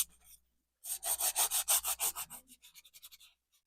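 A wooden sign is lightly sanded by hand in a quick series of about a dozen rhythmic rubbing strokes that slow and thin out toward the end.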